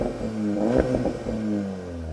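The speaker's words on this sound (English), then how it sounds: "Now I know that Golf has got the Akrapovic upgrade on it, so that should sound pretty good." A Volkswagen Golf R with an Akrapovic exhaust revs at a standstill, its rev limiter holding the engine near 4,000 rpm. One brief, loud rev rises and falls over a steady idle.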